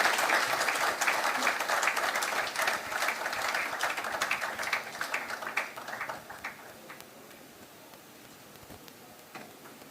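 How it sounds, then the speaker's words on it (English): Audience applause after a leadership lecture, a dense, sustained clapping from a large crowd that is loud at first and gradually thins and fades over the final seconds. "something tells me that round of applause wasn't loud enough"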